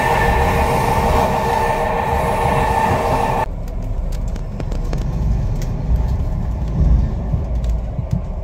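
Steady rumble of a train rolling along rails near Bergen, Norway, loud and close, with a brief whine early on that drops away into a lower, rattling ride.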